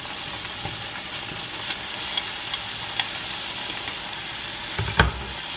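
Beef sizzling as it is sautéed in a pan with spice paste for rawon, a steady broadband frying hiss with small pops and a louder crackle near the end, close and continuous with no talk.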